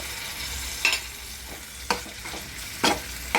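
Tomatoes with a spoonful of Ghati special masala fry in hot oil for aloo chana masala, a steady sizzle broken by four sharp spatula scrapes and stirs spaced about a second apart.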